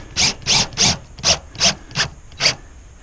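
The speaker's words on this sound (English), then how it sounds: "I'll over tighten this one here." A screw driven into a metal roof panel and over-tightened gives seven short, close grinding bursts from a driver in quick, slightly uneven succession, each separated by brief gaps, with no talk.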